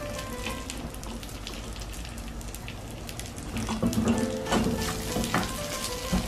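Vermicelli and raisins fry in a pan for sheer khurma, with a continuous close sizzle and crackle that grows louder and busier midway as the raisins go in and are stirred.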